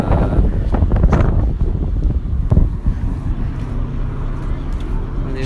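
Strong wind in Wellington buffets the microphone with loud, gusty low rumbling, with a deeper boat-like drone underneath, continuous throughout.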